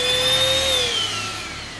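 A vacuum cleaner part from an electronics pallet gives a loud, steady motor whine over a low hum, and the pitch slides gradually downward as it winds down.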